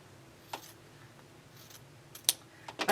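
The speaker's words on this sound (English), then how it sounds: "I'm going to go ahead and trim that, and I'm going to trim it to a 1/2 inch from the seam" Scissors trimming quilt binding fabric, a few quiet crisp snips at irregular intervals over a soft room hush, close and alone without speech.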